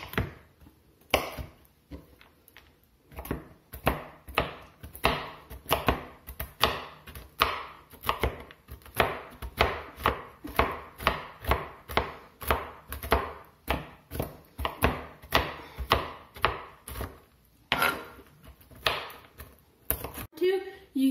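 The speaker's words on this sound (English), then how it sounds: "coarsely chop up these walnuts." Steady rhythmic knife chopping of walnuts on a board, dozens of quick close cuts in a sustained run, with a brief pause near the end before chopping resumes.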